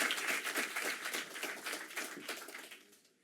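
An audience at a Spanish-language debate applauds, a dense patter of many hands clapping at moderate distance that gradually thins and fades away over a few seconds.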